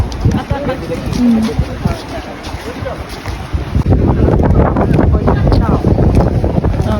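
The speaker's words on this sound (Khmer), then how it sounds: "តែខ្យល់ត្រជាក់ច្រើន" Strong cold wind at Kirirom national park in Cambodia, buffeting the microphone with loud rumbling gusts that grow heavier and constant in the second half, with people's voices faintly mixed in.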